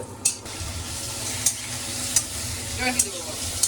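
Prawns fry in a pan with a steady, fairly quiet sizzle, broken by a few sharp scraping clicks of stirring spaced through the short stretch, with no one talking.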